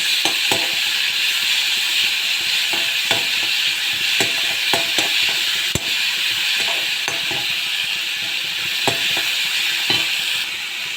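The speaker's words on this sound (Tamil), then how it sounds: "தக்காளி சேர்த்துக்கோங்க. தக்காளி நல்லா வதங்கிட்டாங்க." Tomatoes sauté in a hot pan with a steady sizzle, while a utensil stirs and scrapes the pan in repeated, uneven clicks and knocks.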